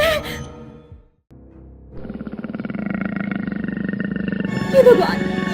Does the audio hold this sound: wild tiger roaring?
yes